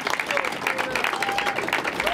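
An audience applauds steadily at a mayoral housing plan announcement in New York, dense clapping filling the room.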